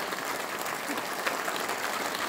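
Steady, dense applause from a large crowd at an outdoor religious chariot procession, continuous and fairly loud throughout with no clear voices standing out.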